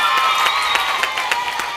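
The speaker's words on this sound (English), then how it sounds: "How about a round of applause for Jessica?" An audience claps and cheers for a game show contestant, dense continuous applause at full volume.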